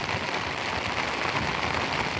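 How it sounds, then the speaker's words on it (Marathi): Heavy rain pours down outdoors in the Konkan region during a casual cricket game, a dense, continuous roar of drops hitting surfaces, loud and close with no pauses. "कसला पाऊस आहे बघ."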